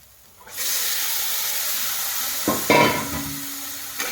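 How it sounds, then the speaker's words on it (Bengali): Boiled batna being tipped into a hot pan and stirred, a steady broadband sizzle setting in after a quiet start, with a few sharper scraping knocks and clatters of the spoon near the end. "এবার সেদ্ধ করে রাখা বাটনাগুলো দিয়ে দেবো"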